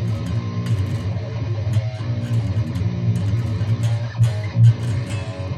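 Distorted electric guitar plays a riff, with pinch harmonics and a pick slide, in a dense, steady, loud run of chugging notes with no talk.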